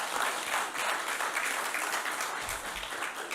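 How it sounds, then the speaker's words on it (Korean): An audience at a faith lecture gives a guest pastor a round of thanks, dense continuous applause filling the hall for a few seconds, no voices over it. "우리 감사한 마음으로 박수 한번 쳐주시죠"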